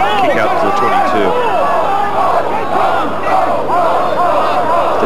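A 25,000-strong rugby crowd at Ballymore chants "gold" during the second test, a loud, continuous mass of voices with rising, rhythmic shouts filling the stadium.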